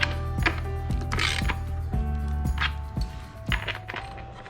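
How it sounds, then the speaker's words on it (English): A ratchet wrench works on bolts of a Pentair Super Flo pool pump during a seal replacement, giving a series of sharp, close metallic clicks and clinks in an uneven rhythm. "a little rough to try to get a ratchet in there, so you end up having to do a lot of wrenching"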